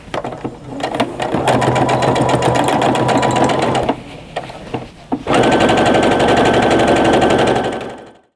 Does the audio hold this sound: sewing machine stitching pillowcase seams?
yes